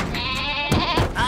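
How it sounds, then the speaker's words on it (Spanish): A goat bleats in a short wavering cry, then a couple more brief bleats follow, close and fairly loud with no speech. "¡Traedme a la cabra! ¿Dónde está la cabra?"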